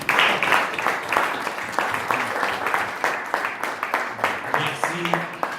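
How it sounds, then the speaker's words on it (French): Church congregation applauding during a Sunday service celebrating Haitian marriage, a dense steady clapping from many hands close by, with voices and murmured talk running underneath. "je demande à l'Église de les applaudir"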